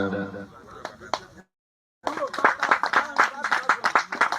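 Audience members at a real estate seminar clap in a lively, fairly close burst after a brief pause, with speech heard beforehand.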